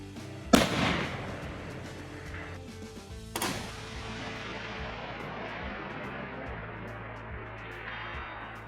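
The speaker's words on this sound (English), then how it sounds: "so I'm gonna shoot one more" A gunshot at outdoor target practice: one sharp crack near the start and a second report about three seconds later, each trailing off into a fading echo over a low background hum.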